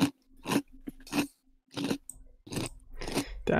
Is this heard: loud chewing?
yes